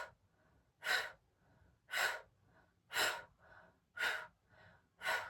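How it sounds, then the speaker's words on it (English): Forceful breaths during a breathing exercise: sharp breaths in through the mouth alternate with softer blown breaths out in an even, repeating rhythm, close and with no talking. "inhaling through the mouth and exhaling for the blow breath"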